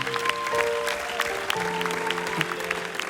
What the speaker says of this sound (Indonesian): Sekali lagi tepuk tangan untuk Cakrakan